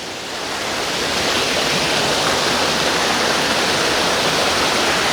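White Oak Falls, a waterfall, roars as a steady broadband rush of falling water, loud and close, continuous throughout with no voices.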